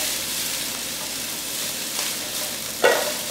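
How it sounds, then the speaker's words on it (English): Broccoli sautéing in olive oil with onion and garlic, a steady broadband sizzle with a brief louder stir or clatter near the end, no talking. "we're going to saute that broccoli until it's a nice, lightly cooked texture"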